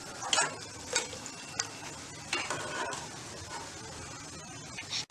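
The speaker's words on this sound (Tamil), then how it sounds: "எண்ணெயோட சலசலப்பு சத்தம் அடங்கின பிறகு எடுத்துடலாம்." Spicy snacks deep frying in hot oil in a home kitchen: a faint, continuous crackling sizzle with scattered small pops and a few louder stirring clicks, close and without talk.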